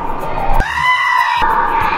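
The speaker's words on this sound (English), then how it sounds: "It's a goat." A goat lets out one loud, drawn-out bleat close by, lasting about a second, with steady background noise before and after.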